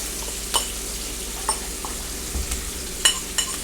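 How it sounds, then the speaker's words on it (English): Flour is stirred into a hot pan to make a roux for steak gravy, a steady sizzle underlying a few soft scraping and tapping strokes of the utensil, close and without talk. "I'm making a little roux for my gravy."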